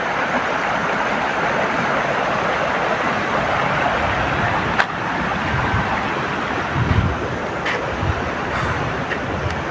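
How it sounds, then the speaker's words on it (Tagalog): A creek flows nearby in a steady, broad rushing wash, close and continuous, with a couple of faint knocks partway through. "So dito banda tol, sapa na yan."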